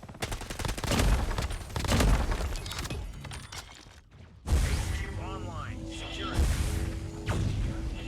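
Gunfire in the mobile shooter game Call of Duty Mobile, loud rapid bursts and single shots in dense repeated clusters, with a brief quiet gap before the shooting resumes alongside other in-game effects.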